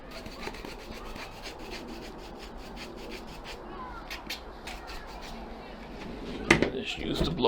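A paintbrush scrubs the grip tape of an electric skateboard, a rough repeated rasping close by, ending in a louder burst of scraping, with people talking over it.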